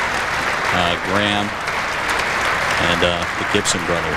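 A home crowd at a 1993 men's college basketball game applauds and cheers for a player, a broad steady wash of clapping under an announcer talking over the arena sound.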